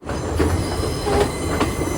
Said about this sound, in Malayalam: ട്രെയിൻ ഇപ്പോൾ ഒരു സ്റ്റേഷനിലേക്ക് എത്തിയിരിക്കുകയാണ്.